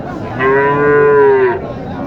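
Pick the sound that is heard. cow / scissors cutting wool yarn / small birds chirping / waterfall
cow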